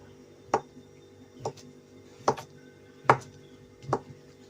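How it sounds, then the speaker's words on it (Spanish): A knife chops a small sausage into little pieces on a board for homemade microwave mini pizzas, five sharp, evenly spaced cuts sounding close over a quiet room hum. "Vamos a cortar unos trocitos."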